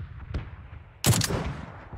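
Gunshots in an online shooter video game, a faint single shot followed by a louder short burst of gunfire, with no talk over it.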